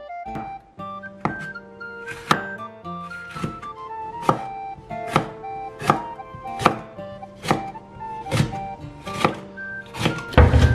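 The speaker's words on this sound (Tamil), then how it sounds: "இதையும் நான் அப்படி சரிச்சு சரிச்சு தான் வெட்ட போறேன்." A knife chops curry chillies on a board, about a dozen sharp, evenly spaced knocks close up with a steady rhythm and a quicker flurry at the end, no talk.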